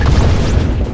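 A missile explodes in a video game with a loud, close, rumbling boom that fills the whole moment, with a rushing whoosh sweeping over it.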